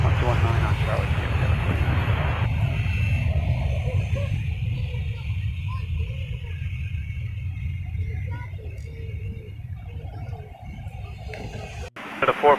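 An airliner landing on runway 23 gives a steady low engine rumble that eases off toward the end, with air traffic control radio voices over it.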